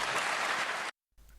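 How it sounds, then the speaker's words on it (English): Conference audience applause, a dense burst of clapping that cuts off abruptly after about a second, followed by near silence. "Sorry for the abrupt end on the applause there"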